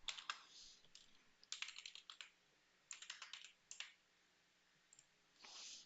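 Password typed on a computer keyboard during a sign-in, heard as several bursts of close, crisp key clicks with short pauses between, set in a quiet room with no speech.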